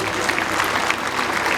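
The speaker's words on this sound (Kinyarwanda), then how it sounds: "Mumahe amashyi menshi." A crowd at a school education day celebration in a cathedral parish claps steadily, a dense, even burst of applause held close and loud throughout.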